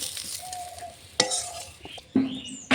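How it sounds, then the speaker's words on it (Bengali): Pieces of cut fish fry in hot oil for a Bengali fish curry, a soft sizzle broken by sharp utensil scrapes and knocks against the pan, close and intermittent. "বাকি মাছগুলো লাল লাল করে ভেজে নিয়েছি।"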